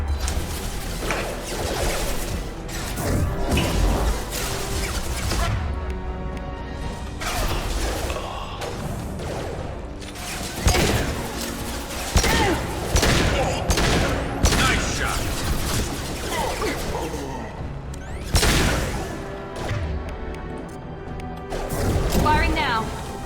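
Gunfire and explosive crashes from the Mass Effect 2 Archangel mission, dense bursts of shots and booms layered with mechanical clatter and game music, with voices talking throughout.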